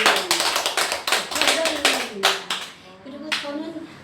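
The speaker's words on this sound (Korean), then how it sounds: "박수!" An audience at a talk on aging and life breaks into quick, close clapping in a few bursts, mixed with a voice that carries on speaking over it.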